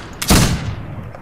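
A rifle shot in the Western shooter game Fistful of Frags, one sharp loud crack with a short booming tail that fades quickly, heard alone.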